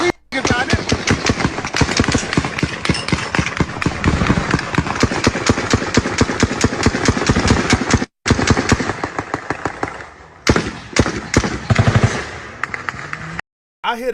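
Rapid bursts of automatic rifle fire, AK or Draco style, mixed with pistol shots, dozens of loud cracks in long continuous strings with a few short pauses, recorded from a fair distance outdoors.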